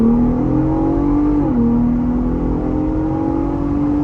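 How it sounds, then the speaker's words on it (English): A 2023 Ford Bronco Raptor in sport mode accelerating off the line, a steady loud engine drone with the pitch rising, briefly dipping at a gear change, then climbing again, close and alone. "Hopefully we'll have a chance to try an acceleration off the line"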